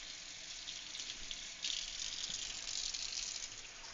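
Warm water pours from a tap into a container for proofing yeast for whole wheat seeded bread, a soft continuous gush that grows a little fuller partway through, quiet and close with no talk.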